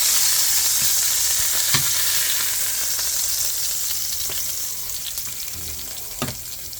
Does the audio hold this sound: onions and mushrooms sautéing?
yes